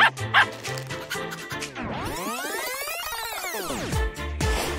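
A dog gives a couple of quick, sharp barks and yips at the start. A music bed with swooping, whooshing sweeps continues underneath.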